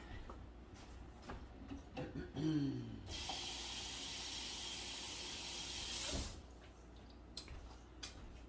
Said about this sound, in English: And I'm going to add a little more water to it.